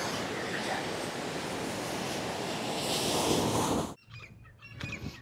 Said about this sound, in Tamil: இந்த கடல் அலை பார்த்திங்கன்னா ரொம்ப ஹைட்டாக வருது